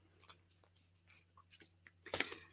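Tarot cards are shuffled by hand in a quiet room, giving soft, irregular papery rustles and flicks that end in a louder riffling burst near the end, with a faint steady hum underneath.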